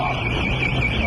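A loud, steady electronic alarm tone blares without a break inside a watch store during a daytime theft.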